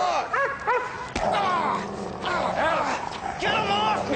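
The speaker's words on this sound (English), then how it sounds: "Get the dog off!" A dog barks and yelps while attacking a man. Repeated sharp barks and whimpers come close and loud amid a scuffle, with shouting voices mixed in.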